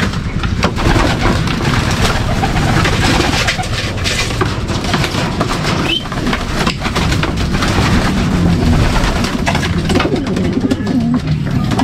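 Racing pigeons returning from a training release at Cavinti, Laguna, with a dense, steady layer of bird calls and soft cooing over a busy, noisy background throughout, no talk.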